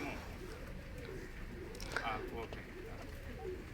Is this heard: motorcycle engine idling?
no